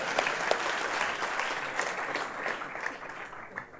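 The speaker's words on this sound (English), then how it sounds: "So give him a round of applause" An audience in a lecture hall at a college tech festival applauds, a dense burst of clapping that starts full and slowly thins out toward the end.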